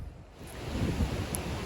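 Taheke Waterfall, heard from the walking track near Whangarei, gives a constant broad roar of rushing water that swells slightly over a short stretch.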